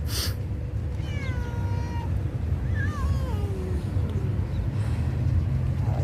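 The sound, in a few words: stray cats meowing in a park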